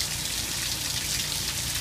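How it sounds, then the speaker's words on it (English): Heavy rain from a tropical storm pours down in a dense, steady hiss of countless drops striking surfaces, loud and unbroken throughout with no voices. "It's raining like crazy."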